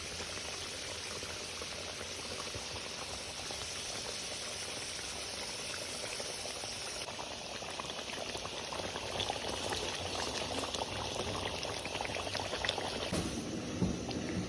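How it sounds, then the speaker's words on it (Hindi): Fish curry (fish salan) simmering in a pot after a cup of hot water is added, giving a steady, continuous bubbling boil that grows slightly busier toward the end, with no talking. "गर्म पानी ऐड करने के बाद हम इसमें फिश जो है वो एक एक पीस करके इसमें डाल देंगे।"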